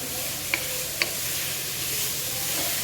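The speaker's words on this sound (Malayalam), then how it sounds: "നമുക്ക് നമ്മുടെ വെജിറ്റബിൾസ് എല്ലാം നന്നായിട്ട് ഇളക്കി കൊടുക്കാം" Vegetables for fried rice are stir-fried in a hot pan, giving a steady hissing sizzle broken by two sharp utensil clicks near the start.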